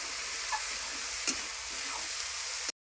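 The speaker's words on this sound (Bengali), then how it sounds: "ভালো করে এটা ভাজতে হবে একটু যখন একদম কড়াই থেকে ছাড়া ছাড়া হবে" Broken wheat (dalia) dry-fries in a wok with a constant gentle sizzling hiss, broken by a couple of soft scrapes and one sharp metallic tap of the stirring spoon before it cuts off abruptly.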